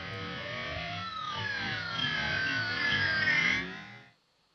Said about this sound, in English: So the pitch envelope sound sounds like this.